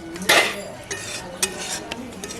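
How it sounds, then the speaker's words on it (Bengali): Hilsa fish jhol stirred in a pot just after a little mustard oil goes in: a few sharp scraping and clinking strokes of a spoon against the metal, spaced apart, with a soft bubbling background. "দিয়ে আবার আমি নাড়িয়ে নেব।"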